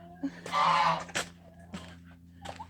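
Turkeys on a free-range chicken farm let out a harsh, raspy burst of calling, followed by a few shorter squawks and clucks, close by in an otherwise quiet yard.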